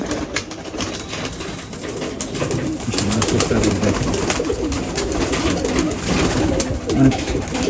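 A prized champion-bloodline pigeon with Chinese-colour eyes coos steadily and close by, its soft repeated calls running on without a break and no talking over them.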